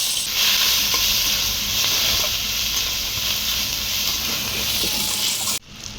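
Ginger-green chilli paste and five-spice seeds hit hot oil in a pan with a loud, steady sizzle and hiss that holds for over five seconds, then drops abruptly near the end.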